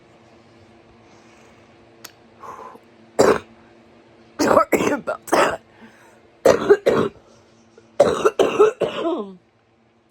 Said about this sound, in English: The cough is horrible.